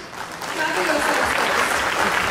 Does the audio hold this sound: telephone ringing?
no